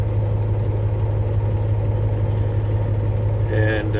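A 2005 Peterbilt highway tractor engine idles with a steady, close, low rumble throughout, a brief higher tone rising over it near the end.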